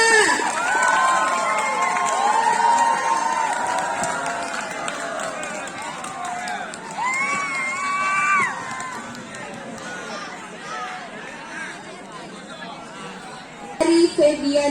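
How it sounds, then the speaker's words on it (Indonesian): At a student council election debate, an audience breaks into loud clapping and cheering with children shouting that gradually settles into crowd chatter, and a sharp burst comes near the end. "Mari tepukannya!"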